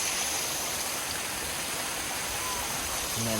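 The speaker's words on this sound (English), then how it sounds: "We're at another waterfall." Steady broadband rush of a waterfall flowing in a leafy outdoor setting, continuous and fairly close, with no talk over it.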